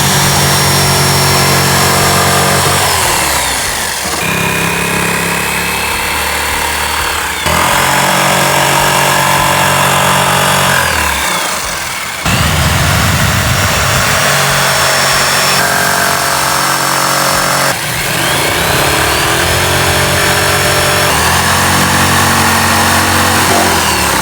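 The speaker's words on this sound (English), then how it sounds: "Jigsaw is gonna be your best bet with a fine-tooth blade." A jigsaw with a fine-tooth blade cuts through a speaker lid, a loud buzzing rasp running in long bursts with short pauses as the cut is repositioned, the pitch shifting with load.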